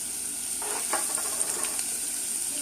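Minced garlic sizzles gently in olive oil over a low flame, a soft steady frying hiss with a few brief bursts of crackle in the middle. The sound is fairly quiet and close, with no talking.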